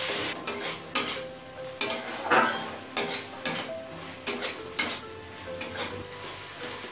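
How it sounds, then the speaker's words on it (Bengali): Tomato sauce, sugar and spices being stirred in a frying pan for chicken masala pasta, with repeated scraping and clinking strokes of a spoon against the pan over a soft sizzle, close up and with no talking. "এবার এই সমস্ত কিছু আরো একবার মিশিয়ে নেব।"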